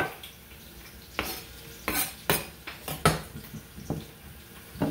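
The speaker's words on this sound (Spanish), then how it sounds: "voy a agarrar los platos" Plates and dishes clatter in a home kitchen while hot dogs are prepared, with a series of sharp ceramic knocks and clinks at an irregular pace, close and fairly loud.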